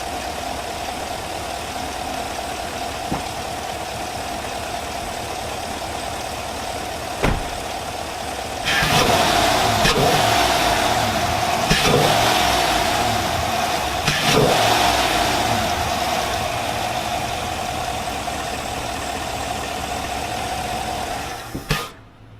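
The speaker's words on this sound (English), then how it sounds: "The motor or the engine is still warm, so it's idled down. We'll give it a few revs here." A warm 2020 GMC Sierra AT4 with a 6.2L V8 idles steadily, then is revved several times in quick bursts before settling back to a smooth idle, heard close up with no talking.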